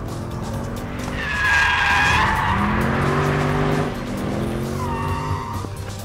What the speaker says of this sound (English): And I'm going to go in and initiate a slide in 2nd gear.